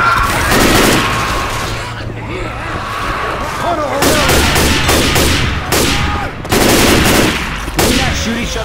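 Rapid automatic gunfire and heavy shots crackle close and loud in a Left 4 Dead 2 zombie shooter match, coming in dense bursts with brief lulls, while players' voices call out over the shooting.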